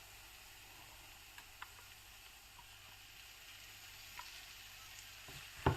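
Chicken curry masala sizzling quietly in a pan after ground paste is added, a faint steady hiss with a few small ticks and a sudden louder clatter right at the end.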